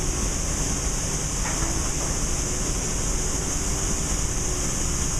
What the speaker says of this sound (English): Unfortunately, most of what you're hearing is just bleed from the air compressor itself.